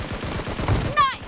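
A shotgun and other gunfire in a mobile shooter video game, heard as a quick cluster of shots in a brief, busy burst, with a short electronic tone near the end.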